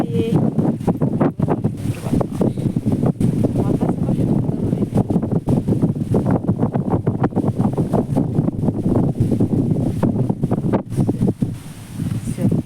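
Strong wind gusting outdoors on a cloudy, rainy day beside a small river, a loud, steady buffeting roar against the microphone with constant rustling that lasts throughout, with no talk.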